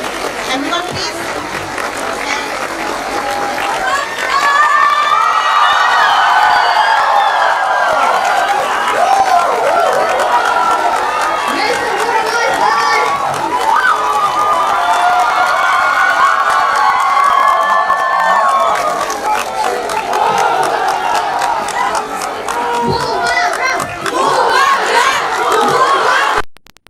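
Crowd at a North East fusion carnival cheering and shouting for the arriving King of Tripura, a loud, sustained roar of many voices with rises and swells, an announcer's voice mixed in.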